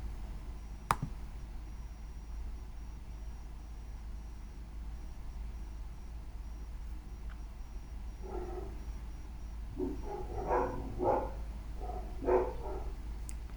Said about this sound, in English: I don't know if you guys can hear my dogs in the background